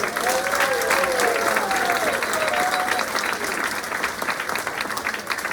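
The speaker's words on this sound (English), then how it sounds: "Let's have another round of applause for our inductees and our student ambassadors." A crowd at Plum High School's distinguished alumni ceremony applauds the inductees with a full, steady round of clapping, and scattered voices carry over it before it gradually thins toward the end.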